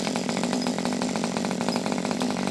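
A Kyosho Nitro Tracker RC truck's small nitro engine idles slowly once warm, giving a steady, buzzy, rasping drone close by that holds even loudness throughout, with no voices over it.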